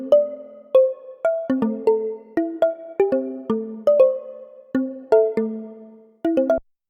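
A plucked harp-like pattern of bright notes, picked out in short uneven phrases, each note ringing briefly before the next; clean and close with no talking.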